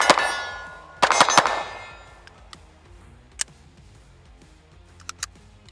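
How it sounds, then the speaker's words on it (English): Pistol shots from a Springfield Echelon Comp ring off steel targets, a quick burst of three sharp cracks followed by scattered single metallic pings that decay, heard alone outdoors. "Shooting steel is a lot of fun."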